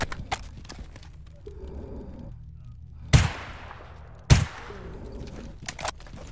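Two sharp, loud gunshots ring out in the video game STALKER GAMMA, spaced about a second apart, each with a decaying echo over faint background ambience.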